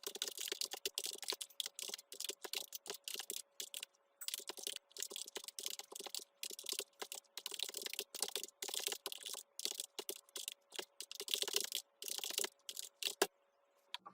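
Rapid, irregular keystrokes on a computer keyboard, close and clear, coming in bursts with short pauses, alone without speech.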